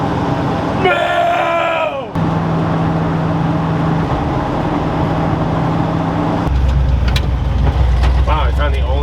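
A 1969 Ford F250 crew cab truck drives along the road, its engine droning steadily with a low rumble that deepens toward the end, while people talk over it inside the cab.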